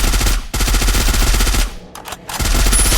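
Rapid automatic gunfire in the Free Fire battle royale game, loud close bursts of evenly spaced shots that stop briefly and then resume at full rate.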